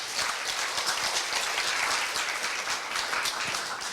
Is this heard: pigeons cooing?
no